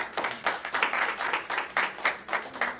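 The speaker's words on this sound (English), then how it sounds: "A big round of applause to kids." A short round of applause for children at a Srimad Bhagavatham gathering at the Bensalem Cultural Center, steady close clapping from a small audience with rhythmic peaks throughout.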